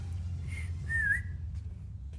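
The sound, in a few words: quiet human whistle imitating a giant whistle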